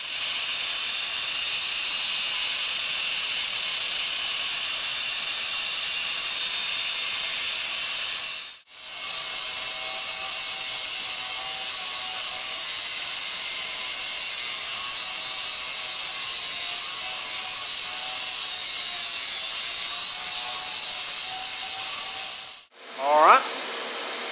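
Steady, loud hiss of a torch or grinder cutting a notch into a metal piece for a trapping trowel, running continuously for long stretches with a short break, then stopping near the end.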